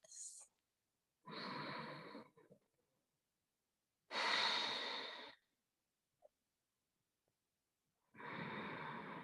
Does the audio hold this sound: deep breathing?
yes